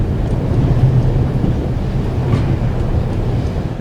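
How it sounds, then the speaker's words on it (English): A train in the video game The Raven Remastered gives off a steady, dense rumbling drone, loud and continuous throughout with no voices. "a good way to get onto the train"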